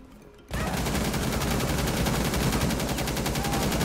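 Rapid automatic gunfire in Rainbow Six Siege, a loud continuous burst that starts abruptly after a brief quieter moment and keeps going without pause.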